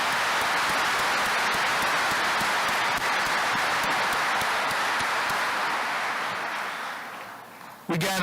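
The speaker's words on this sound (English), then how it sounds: "So how about a big round of applause for Calvary Church?" Broad, steady applause from a large crowd at a high school graduation ceremony, honoring Calvary Church, holds evenly for about seven seconds and then tapers off before a voice starts.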